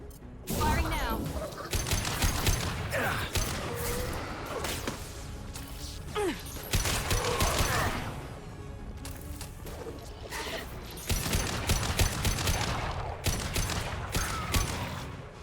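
Gunfire in a Mass Effect 2 firefight, with dense, continuous bursts of shots, impacts and whooshes layered with battle noise and voices throughout.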